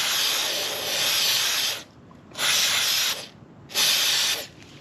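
Chain lube sprayed onto the chain of a 2024 Kawasaki Vulcan S motorcycle in three close, loud hissing bursts of about a second and a half each, separated by short pauses.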